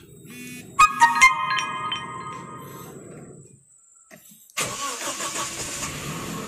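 A car engine cranks and catches after a new timing-related part has been fitted, settling into a steady idle with broadband mechanical noise close to the microphone; electronic beeps and tones sound just before the start.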